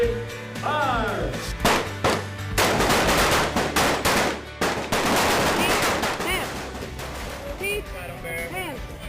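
Loud bursts of rifle gunfire crack out repeatedly during U.S. Air Force basic training exercises, with overlapping rapid shots and echoing reports close by, mixed with shouted commands.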